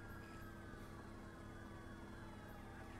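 In the video game Driver San Francisco, a fire engine siren wails steadily and faintly in the background, with no speech over it.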